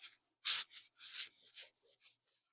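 A shop towel dampened with isopropyl alcohol wipes dust off a sanded walnut bowl in several short, close rubbing strokes with brief pauses between them.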